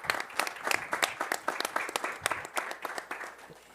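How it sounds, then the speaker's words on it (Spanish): An audience at a panel discussion applauds the panelists with brisk, close clapping, individual hand strikes clearly audible in a sustained round lasting several seconds. "Les pido un aplauso para nuestros panelistas"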